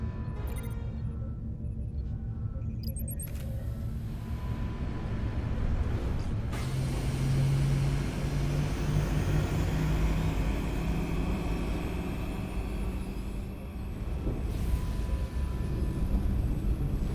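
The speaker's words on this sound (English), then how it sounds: "Resolute to Shuttlecraft Melville. You're cleared for takeoff." A shuttlecraft in the video game Star Trek: Resurgence powers up and lifts off with a deep, steady engine roar, a whooshing surge midway and a sustained rumbling hum that carries on loudly to the end.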